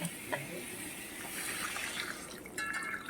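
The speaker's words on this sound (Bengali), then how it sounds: "এবার জল দিয়ে দিচ্ছি" Water is poured into a cooking pot of potatoes, ginger, garlic and onion for a fish curry, making a steady close splashing, filling sound for a few seconds.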